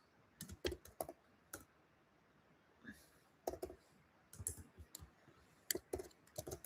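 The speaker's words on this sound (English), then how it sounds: "I'm typing it right now." Typing on a computer keyboard during a livestream: scattered bursts of sharp, close key clicks with short pauses between them, alone without talk.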